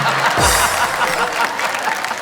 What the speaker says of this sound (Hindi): बज गई तालियां।